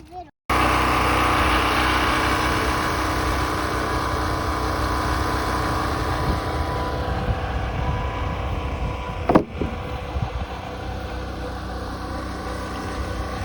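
A generator engine runs outdoors, starting abruptly after a brief pause and then droning steadily and loudly near at hand, with one short sharp knock partway through.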